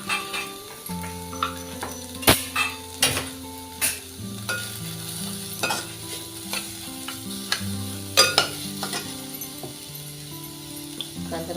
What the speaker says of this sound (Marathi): कांदा भाजीसाठी थोडंसं तेल घालूया.